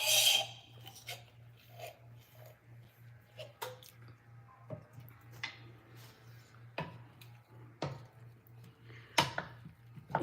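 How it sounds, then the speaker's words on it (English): Broccoli and pasta are stirred in a single pot, producing quiet, scattered scrapes, ticks and wet squishes over a steady low hum. "It's important to stir frequently so to avoid sticking on the bottom of the pan."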